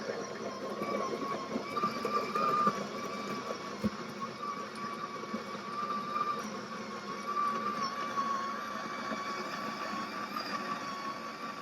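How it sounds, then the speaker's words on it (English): A Ninja Cafe Luxe Premier Series coffee machine grinds coffee beans with a steady, moderately loud whirring drone that stays even throughout, with no talking. "The next step is to just start grinding the beans."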